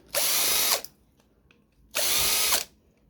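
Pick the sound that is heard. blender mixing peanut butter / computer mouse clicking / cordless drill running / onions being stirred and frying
cordless drill running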